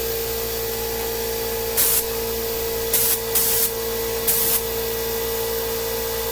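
Four short bursts of paint sprayer hiss in a narrow spray pattern, one brief and then three in quick succession, each a sharp broadband whoosh over a steady low hum.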